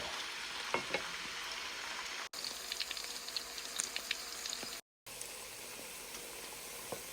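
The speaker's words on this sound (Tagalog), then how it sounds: "Then guys, i-fry natin yung hot dog." Small pieces of hot dog fry in a pan, giving a steady crackling sizzle with brief pops and occasional stirring, close and fairly soft, with no talking.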